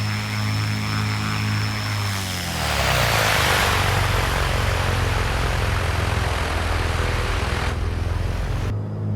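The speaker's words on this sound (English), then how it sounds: "the movement of the prop levers changes the pitch of the propellers and has a direct impact on the power available to the engine" Propeller aircraft engine in Microsoft Flight Simulator, a steady droning hum whose pitch and intensity shift as the prop levers change propeller pitch, rising into a louder broad roar before cutting down sharply near the end, with no voices.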